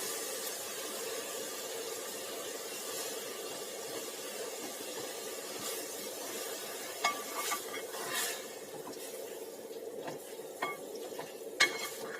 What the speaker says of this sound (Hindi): अब इसमें हम डालेंगे ये 1 कप दूध है, इसको हम इसमें डाल देंगे।